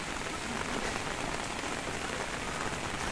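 Steady monsoon rain pours down continuously, a dense, close hiss of drops on surfaces in Assam, with no voices.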